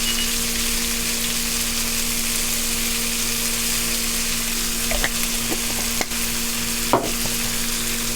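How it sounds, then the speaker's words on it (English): Kale and red pepper flakes frying in butter in a pan, a steady close sizzle throughout with a low constant hum beneath and a few faint clinks and scrapes of stirring near the end. "So now I want to go ahead and drop my kale in."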